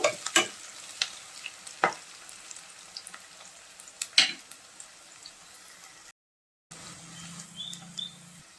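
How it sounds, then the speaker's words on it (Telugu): Chopped onions fry in hot oil in a pan for gongura chicken, giving a steady soft sizzle with scattered crackles and stirring clicks. A short silent gap comes near the end, and then the sizzle resumes. "మనం కట్ చేసి పెట్టుకున్న ఉల్లిపాయలు అయితే వేసేసుకోవాలి. వేసుకొని బాగా ఫ్రై అవ్వాలి."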